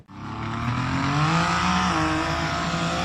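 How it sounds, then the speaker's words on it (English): A blue SUV roars up an off-road hill climb, its engine loud and close with rising revs held throughout and a harsh, strained tone. "The blue SUV performed a spectacular acceleration"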